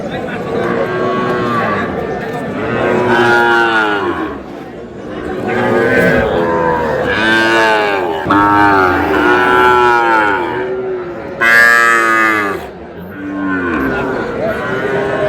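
Sahiwal bull calves at a cattle market in Barisal moo repeatedly in long, loud, harmonic calls, several animals overlapping close by with crowd noise underneath.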